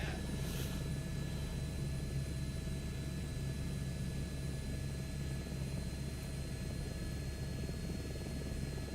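Helicopter in the Microsoft Flight Simulator 2024 game, a steady droning rotor and engine hum with faint high whine, continuous and even throughout, with no speech.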